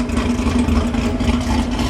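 Steady, rumbling idle from a Camaro parked at a gas station pump, close and constant with slight unevenness in the engine note.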